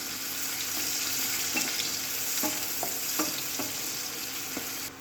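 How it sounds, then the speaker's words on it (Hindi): Chopped onion frying in a pan with cumin and green cardamom for an Indian egg masala curry: a steady, close hiss of sizzling oil, with light stirring scrapes every second or so. "देखिए 2 मिनट तक इसको प्याज को तल लिया है"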